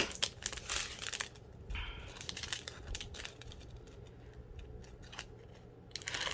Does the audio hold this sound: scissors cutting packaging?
yes